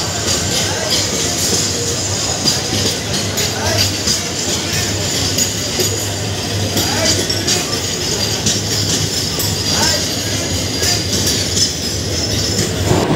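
The Kishoreganj Express intercity train rolls into a station platform with continuous rumbling, wheel clatter and squeal, at moderate loudness and close by, with faint station ambience and voices in the background.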